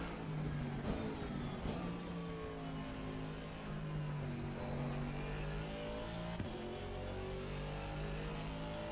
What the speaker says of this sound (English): now let's get to the test drive